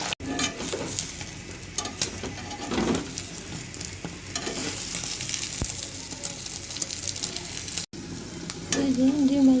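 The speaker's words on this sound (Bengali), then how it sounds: "এখন ডিমটাও ভেজে নেই অন্য কড়াইতে।" Egg frying in a hot wok (kadai), a continuous sizzle with occasional stirring scrapes, sharper toward the end, with no voices.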